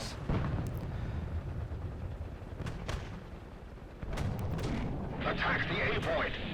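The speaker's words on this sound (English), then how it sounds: "I hear some people firing behind me" Gunfire crackles in a War Thunder battle, with bursts of shots and booms at mid-distance, a few louder sharp reports near the end over a constant rumble.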